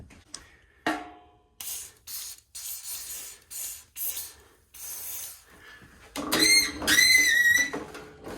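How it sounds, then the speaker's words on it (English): Short hissing bursts of aerosol lube sprayed into an Ariens Deluxe 28 snowblower during a belt replacement, several quick squirts in a row followed by a longer, louder spray with a whistling edge. "Spray a little lube right up into here."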